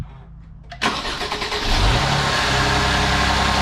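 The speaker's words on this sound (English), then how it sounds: "I think we're ready to start the car now." A Mercedes C350 cranks and fires up after a thermostat replacement, a brief starter whir followed by a loud catch, a quick rev and then a steady close idle.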